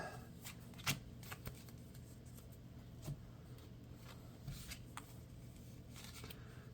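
Cards slide and snap softly as they are drawn one by one from a deck during a Marvel Champions tabletop game, quiet close-up handling with light papery flicks.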